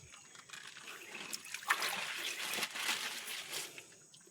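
Water trickles slowly from a hose outdoors, a soft, steady, fairly faint dribbling with no voices over it.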